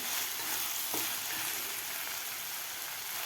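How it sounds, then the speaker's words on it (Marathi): Coriander leaves sizzling in hot tempering oil for Nagpur-style Savaji dal, a dense steady frying hiss close by with a brief stirring clatter early on, without speech. "आता यामध्ये थोडेसे आपल्याला फोडणीला कोथंबीर घालायची आहे"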